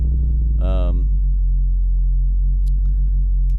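A deep, squelchy synthesized neuro bass tone made in FL Studio 20 drones steadily, with a brief wobbling, filtered sweep near the start before settling into a sustained low hum.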